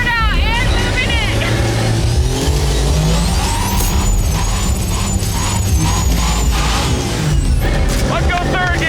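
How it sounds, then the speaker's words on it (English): A car does a burnout, engine revving hard with tire squeal rising and falling, loud and close, while excited voices shout over it. "And a burnout and moving it."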